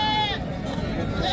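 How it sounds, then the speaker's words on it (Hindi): Goat with two kids at a livestock market in South Punjab, a large Gulabi-breed animal, gives a brief bleat amid the steady crowd babble and nearby talk. "अब ये 2 बच्चों वाली बकरी है।"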